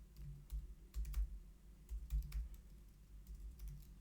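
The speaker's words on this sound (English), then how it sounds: "having trouble typing today" Typing on a computer keyboard during a Java programming lecture, irregular bursts of soft nearby key clicks with short pauses between runs, no talk.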